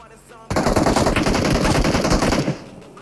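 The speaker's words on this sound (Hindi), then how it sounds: "ये लड़का फायर करता है मेरे पे।" Sustained automatic gunfire in the mobile battle royale game BGMI, a loud, close two-second burst of rapid shots cutting in sharply and stopping, with no talk over it.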